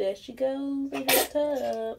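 A three-month-old baby girl in a tub gives one short, sharp sneeze in the middle of the clip, close and clear, with someone talking before and after it.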